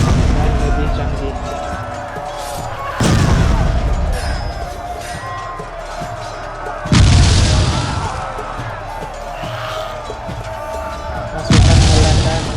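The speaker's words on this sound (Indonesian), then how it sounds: "Pasukan Belanda menembakkan meriam ke hutan tempat pasukan Aceh berada" Dutch cannons firing artillery into a forest, heavy booms striking at intervals about every four seconds, each blast loud and broadband, with a rumbling bed of noise between shots.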